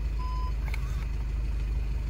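Short electronic reversing beeps from a VW Golf MK7 (5G) after it is shifted into reverse, a thin tone sounding once or twice over a steady low engine idle, close by inside the car.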